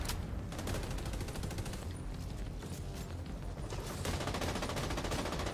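Dense, continuous automatic gunfire from a firefight in The Division 2, loud and close with overlapping bursts filling the whole stretch and no pauses.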